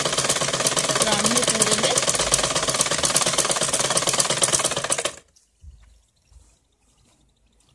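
An electric sewing machine runs a steady straight stitch along the seam of a salwar, a loud, fast, even mechanical chatter for about five seconds before it stops, followed by a few faint handling knocks while someone talks.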